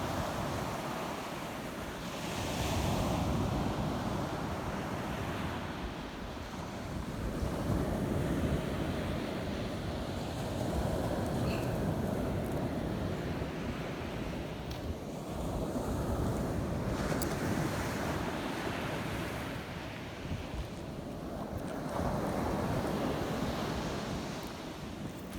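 Surf washing onto the beach at Captiva Island, a steady broadband wash of waves rising and falling in repeated surges, with wind noise across the microphone and no talking.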